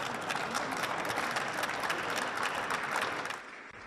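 European Union leaders applaud as the Ukrainian president enters alongside the summit's permanent chair. The clapping is steady and moderately distant and tapers off near the end.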